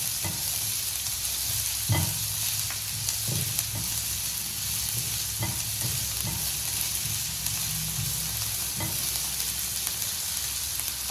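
Chopped onion sautéing in a pan sizzles steadily, close and fairly quiet, with occasional spoon knocks and scrapes as it is stirred, and no voices.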